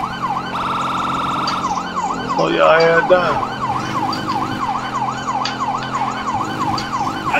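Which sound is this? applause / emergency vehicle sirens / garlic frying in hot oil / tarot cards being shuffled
emergency vehicle sirens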